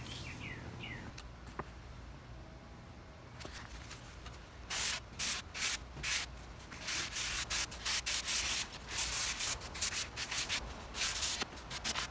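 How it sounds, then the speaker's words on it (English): Surface given a light hand sanding, starting with faint background chirps and then a series of close rhythmic scratchy rubbing strokes in quick bursts. "Now the rest is going to get a nice soft sand."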